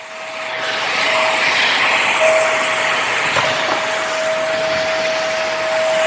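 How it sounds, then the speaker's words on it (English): An Aspiron corded stick vacuum cleaner running indoors, a loud, steady close whoosh of suction with a constant motor whine that barely changes throughout. "I'm actually really impressed with this little vacuum and the power that it has"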